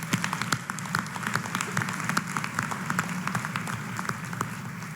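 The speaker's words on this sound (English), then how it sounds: "Please join me in giving him a big round of applause" A large graduation commencement audience applauds an honoree, dense overlapping claps in a continuous steady round with a low crowd murmur beneath.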